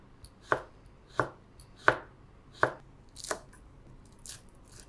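A knife thinly slicing lemon peel on a board makes about seven sharp, evenly spaced cuts, close and crisp against a quiet background with no talking.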